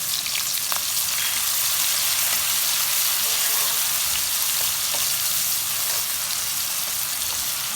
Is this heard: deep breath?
no